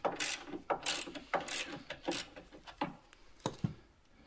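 Ratcheting wrench working loose the four 13 mm nuts on a Peugeot 1007 sliding door mechanism, a series of close, crisp clicking bursts in uneven rhythm with short pauses, no talking.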